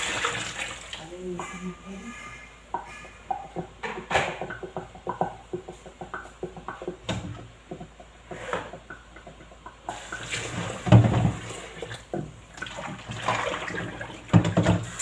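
Hot water splashes and pours over pork ribs in a pot or basin, with clattering and handling noises and occasional talk in the background.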